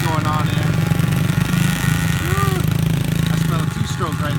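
A two-stroke dirt bike engine putters and revs loudly up close in a dusty outdoor spot, a choppy rattling drone with voices talking over it.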